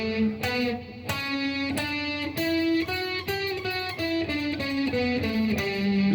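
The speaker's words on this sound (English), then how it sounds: "So now we're going to play the Lydian, which sounds like this." A G Lydian mode scale played as a rising then falling run of single sustained notes, steady and clear, on an instrument with a slightly distorted, effects-processed tone, alone with no talk.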